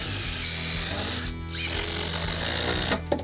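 A cordless power drill drives fasteners into a deck joist in two short bursts of high whirring, separated by a brief pause.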